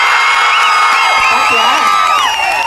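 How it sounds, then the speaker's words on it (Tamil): Supporters of Babasaheb Ambedkar in a crowd at the Margazhi Makkalisai music event in Chennai shout and cheer loudly, with overlapping whoops and high cries over a steady roar of voices. "பாபா சாஹேப் அம்பேத்கர் ஐயா ரசிகர்கள் கைத்தட்டல் பார்க்கலாம்."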